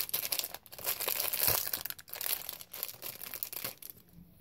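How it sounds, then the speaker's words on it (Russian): A plastic packet crinkles and rustles up close in irregular bursts as it is handled and pulled open. "слышал звук пакетика"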